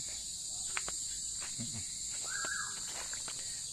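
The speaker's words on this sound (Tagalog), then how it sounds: "tumutunog na po yung mga ibon natin dito" At night, a single bird calls briefly over a constant high chirring of crickets, with a few faint clicks and rustles nearby.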